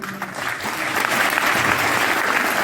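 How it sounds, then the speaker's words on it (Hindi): Audience applause at a health program event, a dense sustained wash of many hands clapping together, steady and fairly loud. "तालियां तो आपने मार दी"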